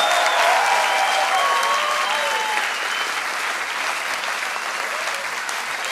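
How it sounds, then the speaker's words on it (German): Sustained applause from a fairground crowd at the Teufelsrad ride at Munich's Oktoberfest, dense and steady, with cheering and talk mixed in, easing off slightly toward the end. "Jetzt haben wir einen Applaus."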